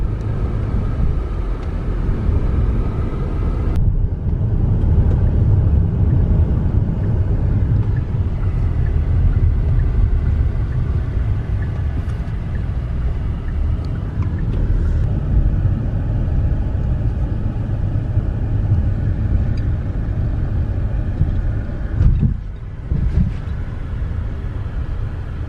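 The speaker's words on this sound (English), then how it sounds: "jump in a car and make our way over" Steady low engine rumble and road roar from inside a moving car, continuous and fairly loud for the whole stretch, with a couple of brief bumps.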